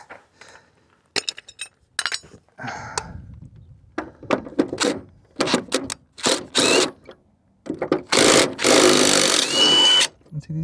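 Power tool bursts removing bolts on a 1968 Mustang during hood, door and fender alignment, several short whirring runs close up with a longer sustained run near the end, mixed with metallic clinks.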